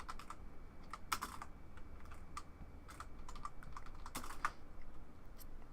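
Typing on a computer keyboard, quick uneven bursts of key clicks, fairly faint and close, over a soft background hiss with no talking.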